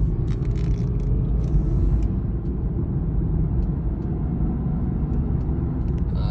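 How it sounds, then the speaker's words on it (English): A 2004 Acura MDX cruises on the highway in fifth gear, giving a steady loud cabin rumble of engine and road noise with faint ticking and rattles above it. "let's get her into fifth gear and go for a test drive here"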